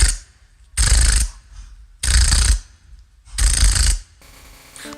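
Voice imitating a machine gun in beatboxing, three loud, close, rattling bursts of about half a second each with short pauses between, ending in a softer buzzing tail.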